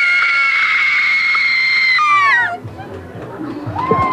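Horror-movie scream queens shriek together at a Halloween horror attraction: long, loud, piercing screams held for about two seconds, then a crowd's murmur and chatter take over.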